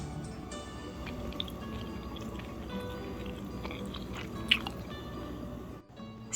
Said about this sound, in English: Hard to chew